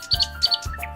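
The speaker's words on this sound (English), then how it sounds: "I see a red bird looking at me." A red bird's chirping sound effect: two quick pairs of bright, high tweets, clear and close, followed by a softer chirp, with no one talking.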